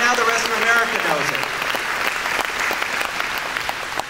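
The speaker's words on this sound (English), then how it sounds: "Let's cheer that again, because that's astonishing." Parks and recreation employees clap and cheer in a room, a dense burst of applause that starts with a voice and settles into steady clapping.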